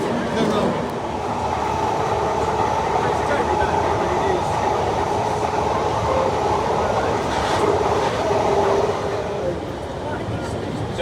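A London Underground 1938 stock train runs between Terminal 4 and Heathrow Central, a steady broadband rumble and rattle of wheels and carriage holding an even level throughout.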